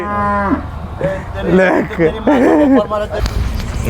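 Cattle at a livestock market in Manjeri, Kerala, lowing in long, loud moos, one after another, close up amid crowd bustle and voices.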